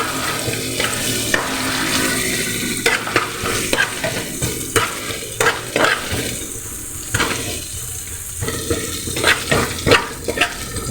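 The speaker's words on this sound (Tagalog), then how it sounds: "Sabayin lang natin guys ang ating sibuyas at bawang guys." Onion and garlic sautéing in a pan for a tilapia fish steak dish, a steady close sizzle broken by repeated scraping stirs, with no talking.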